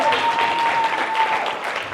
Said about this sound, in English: All right, a round of applause again.